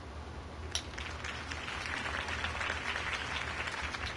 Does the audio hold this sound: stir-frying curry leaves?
no